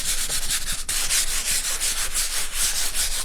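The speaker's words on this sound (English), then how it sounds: "we're going to do some sanding" Steady, scratchy sanding strokes rub back and forth across a wooden surface, close and continuous with a brief pause near the start.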